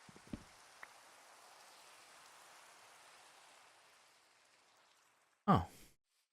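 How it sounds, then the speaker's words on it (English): Steady soft hiss of rain falling in the video game Minecraft, even and continuous for several seconds with a few faint clicks, ending in a short louder burst. "Wish it would stop raining."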